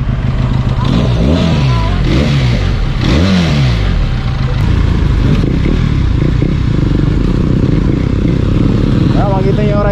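A loud Benelli Leoncino 500cc parallel-twin motorcycle engine idles and revs with rising and falling pitch sweeps, rumbling steadily throughout, with voices talking faintly underneath.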